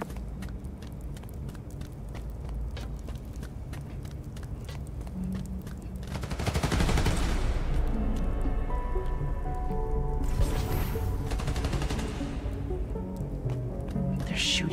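In Spider-Man: Miles Morales, gunfire hits transformers at a power station as bursts of crackling shots rise over a constant rain-like hiss, with a loud stretch in the middle and another burst later.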